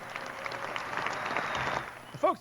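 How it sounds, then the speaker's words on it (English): An audience gives faint, steady applause throughout, and a voice breaks in briefly near the end. "Let's turn the volume up on that applause because it's a little subtle."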